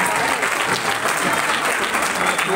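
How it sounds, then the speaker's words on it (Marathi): Continuous applause from a seated audience at a felicitation ceremony for a charitable trust's SSC practice exam event, a dense, even wash of clapping that holds steady at full strength throughout. "टाळ्यांचा गजर हा कंटिन्यू सुरू राहिला पाहिजे"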